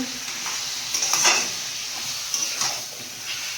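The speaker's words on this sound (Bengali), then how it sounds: "ভালো করে মশলাটা কষিয়ে নিয়েছি, আর এবার মাংসটাও দিয়ে দেবো" Mutton mixed with fat and liver tossed into sizzling, well-fried masala in a pot and stirred, giving a steady close hiss of frying broken by scraping, clattering stirring strokes.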